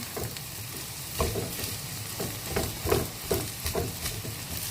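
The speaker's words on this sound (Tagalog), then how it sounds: "So, konting mix na lang siya. Sa ating rice. Mix lang." Fried rice being stirred in a pan with beaten egg mixed through, a steady sizzle under repeated scraping strokes of a utensil, close and moderately loud with no voices.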